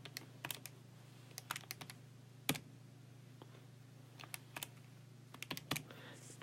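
Keys tapped on a calculator to enter numbers, heard as quiet, irregular clicks in short bursts over a low steady hum.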